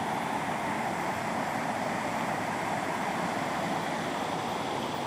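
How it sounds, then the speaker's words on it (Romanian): Waterfall in the Balchik botanical garden in Bulgaria, a constant broadband rush of falling water close by, steady and unbroken throughout with no voices. "Foarte frumoasă cascada asta."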